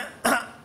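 A voice imitates a single cough, one short, sharp burst that is close and fairly loud, then fades against a quiet background.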